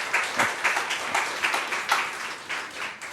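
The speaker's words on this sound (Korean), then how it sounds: "박수 한번 쳐줘요." A church congregation at a Wednesday worship service claps together, a moderate, rhythmic wave of applause with rising and falling bursts and no talk over it.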